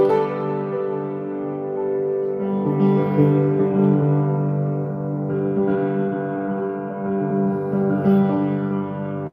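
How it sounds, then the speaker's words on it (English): Piano chords ring out heavily washed in reverb, sustained tones blurring into one another into a continuous smeared wash, steady and fairly loud with no talking. "It's like reverb."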